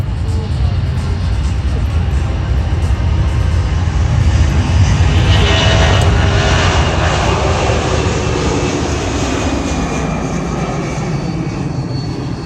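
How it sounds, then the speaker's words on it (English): Loud, continuous roar of a C-17 Globemaster III's jet engines spooling up for takeoff at Joint Base McChord in Washington State, a broad rumbling wash that swells toward the middle and holds steady, with a faint voice in the background. "Spooling it up now, ladies and gentlemen, from Joint Base McChord in Washington State, the C-17 Globemaster III."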